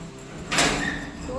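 A metal gate swings shut at a house in the wind, a single quick scraping clank that rises sharply then lingers as a brief rattle.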